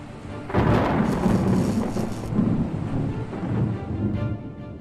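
Thunder from lightning strikes, rumbling loud and close as it swells early and rolls on continuously, with a broad low roar like a storm nearby.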